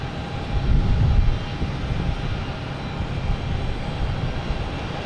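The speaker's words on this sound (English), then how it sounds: "A220 coming in from Buffalo." An Airbus A220 airliner arriving from Buffalo at Boston Logan Airport, its engine roar steady and moderately loud, swelling briefly early on and then holding as a continuous rumble with no voices.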